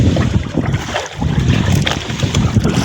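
Strong wind roars across the microphone aboard a fishing boat at sea during longline fishing, a dense continuous rush with water and hull noise underneath, loud and close throughout.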